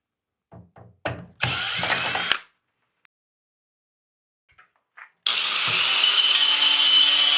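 Power driver backing screws out of an old railway car brake wheel, with several short clicks and knocks followed by two bursts of whirring motor, the second long and steady.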